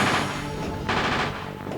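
Rapid turret gunfire in Castlevania 64, a dense continuous burst of shots with a brief swell partway through, loud and with no voice over it.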